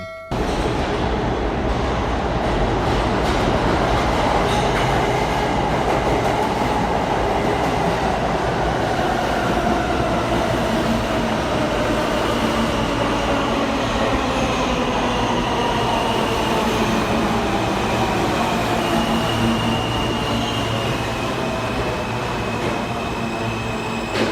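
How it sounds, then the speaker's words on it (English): A southbound local NYC subway train pulls into 28 Street station on the BMT Broadway Line. A loud, steady rumble and rattle of rail cars runs throughout, with faint wheel squeal and the clickety-clack of the wheels. "Here we can see a southbound local train entering the station."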